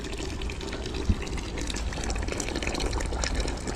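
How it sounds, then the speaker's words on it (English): Maple syrup pours steadily in a sugar shack, a continuous liquid gush with no voices. "finally pouring syrup for the first time right there."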